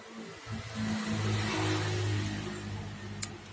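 Ryu RCC12 mini tyre-inflator air compressor for a car running with a steady mid-pitched motor drone and buzzing tones, close and continuous, ending with a brief sharp click.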